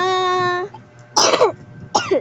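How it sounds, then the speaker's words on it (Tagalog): A child coughs twice, close and fairly loud, each a rough throaty burst, just after a sustained tonal hum fades out. "Inuubo nga pala siya"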